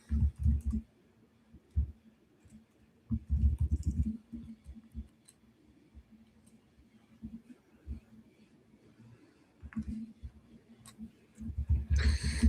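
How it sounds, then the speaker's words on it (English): Rapid clicking keystrokes come in bursts and pauses, fairly close, as someone types on a computer keyboard during a watch-along of the soap opera Beyond the Gates, with low background rumble between the bursts. "Apologies for the typing."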